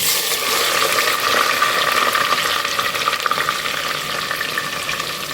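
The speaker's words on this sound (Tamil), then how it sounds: "வெந்தயம் பொரிஞ்சிருச்சு இப்போ போட்டுடலாம்" Onions, garlic and green chillies tipped into hot oil with spluttering fenugreek seeds set off a loud, dense, continuous crackling sizzle that holds steady throughout, close up and with no speech.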